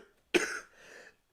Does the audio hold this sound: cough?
yes